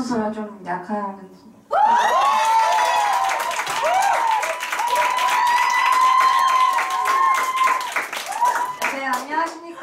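A seminar audience bursts into sustained clapping after a brief stretch of speech, the applause loud and steady with voices, cheers and laughter mixed in throughout.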